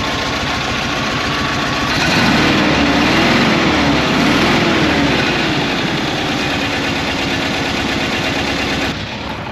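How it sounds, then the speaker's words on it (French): A camper van engine runs at idle with a steady low rumble, loud and close, rising briefly and then falling back; the engine is turning over fine but failing to build power. "le moteur tourne super bien wide-out pareil, sauf qu'il prend pas sa puissance"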